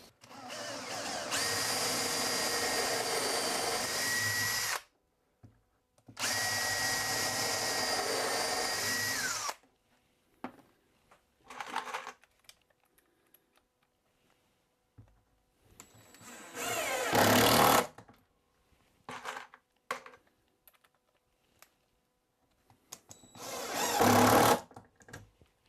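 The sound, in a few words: power drill driving screws into a cabinet nailer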